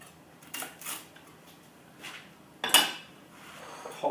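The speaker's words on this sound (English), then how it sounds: "get our toast and cut that into nice kind of garlic fingers" A knife slices garlic sourdough toast into fingers in a home kitchen, giving a few faint, scattered crunches and scrapes with a sharper knock against the board or plate partway through.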